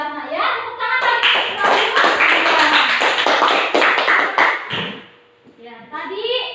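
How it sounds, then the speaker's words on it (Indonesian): Classroom students clap hands together in a loud, dense burst lasting several seconds, with children's voices mixed in and talk resuming as the clapping fades. "Tepuk tangan lagi."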